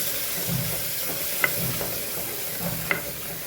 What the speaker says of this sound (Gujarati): સાતળી લેશું સરસ મસાલાને